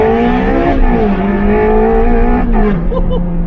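A Ferrari Challenge Stradale in Carrara White roars at full throttle, its loud engine note climbing through the revs and briefly dipping at a gear change, with a faint voice underneath.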